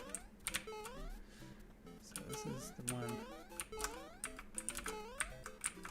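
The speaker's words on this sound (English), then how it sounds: "I'm still holding the right arrow key in order to move what you see as left." Computer keyboard keys are tapped and held while playing a video game, giving irregular close clicks, with a person speaking briefly over them.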